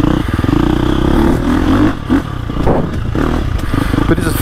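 A KTM 350XCF four-stroke dirt bike ridden on a short woods loop, its engine droning loud and close with throttle surges, revving bursts and clattering thumps from the rough trail.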